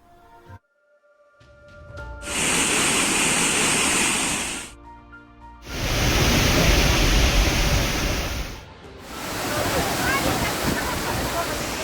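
Monsoon floodwater roars at dams and waterfalls in Karnataka in long loud bursts of broad rushing noise, broken by brief cuts between scenes.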